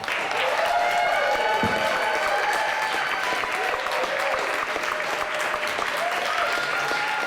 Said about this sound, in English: please bang your hands together and welcome Adam Smith!